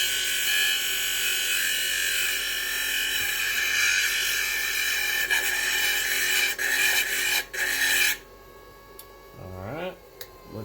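A polishing wheel grinds steadily against a stone to smooth out a small pit, a loud constant whirring rasp with brief catches, then the motor cuts off and winds down near the end while a voice speaks briefly.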